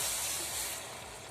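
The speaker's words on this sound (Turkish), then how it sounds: "kavrulan unumuzun üzerine şimdi sütümüzü ekleyeceğiz" Milk poured into a pan of hot roasted flour for béchamel sauce gives a brief, close sizzling hiss that fades slightly over a second or so, with no talking.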